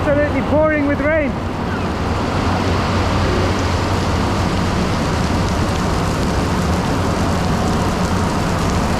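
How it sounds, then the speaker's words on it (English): Heavy pouring rain at a large tile factory in India, a dense continuous hiss and roar throughout, with a voice briefly heard at the start. "It's absolutely pouring with rain."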